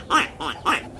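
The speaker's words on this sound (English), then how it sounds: "Duckling," A duckling on a farm quacks three times in quick succession, close and clear, the short calls evenly spaced within about a second.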